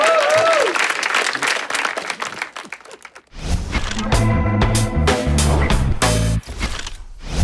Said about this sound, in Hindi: इनके लिए तालियां बजा दो।